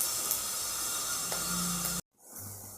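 Curry leaves hit oil with onions already fried until reddish, giving a soft, steady sizzling hiss that stops abruptly, followed by quieter cooking noise.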